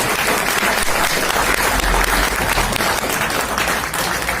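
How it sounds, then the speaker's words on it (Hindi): Loud, sustained applause fills a seminar hall, the crowd clapping hard and continuously in a thick, unbroken roar. "एक बार अपने लिए जोरदार तालियां बजा दीजिए"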